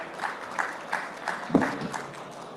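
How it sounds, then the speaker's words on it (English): Applause from an audience at the Wiki Expo Dubai 2024 conference is fairly faint and thin, with a rhythmic pulse of claps and one sharper clap near the middle. "let's give them a round of applause"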